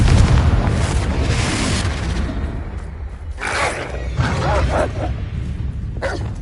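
A blasting spell explodes in Hogwarts Legacy, a loud booming burst rising over steady game background noise with music, followed by further crackling impact bursts.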